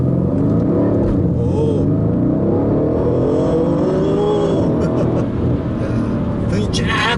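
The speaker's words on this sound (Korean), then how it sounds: "급가속을 한번 해보도록 하겠습니다. 스포츠 플러스 모드에 두고 가속해 보겠습니다." A Mercedes-AMG C63 accelerates hard in Sport Plus mode, a loud, rising engine roar heard from inside the car, growing steadily with a rumbling low end.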